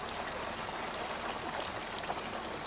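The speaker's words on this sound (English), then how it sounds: "You can hear the water flowing." Water runs steadily through a hose into an RV tote tank while the gray tank is being emptied, a continuous broadband rush with no pauses and no talk.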